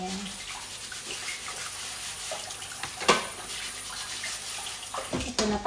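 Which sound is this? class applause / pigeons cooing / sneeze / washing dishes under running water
washing dishes under running water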